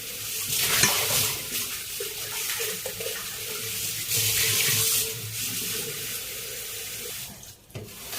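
Houseplant roots rinsed under a running tap at a sink, a steady splashing stream of water that continues throughout, briefly interrupted near the end before flowing again.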